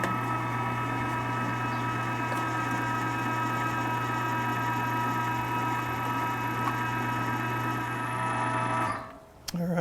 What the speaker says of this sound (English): Now I'm going to go ahead and run this through the grinder a second time.